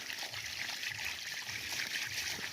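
Water trickles steadily from a motor-driven pipe onto garden soil among brinjal plants, a continuous close hiss and dribble with no talk.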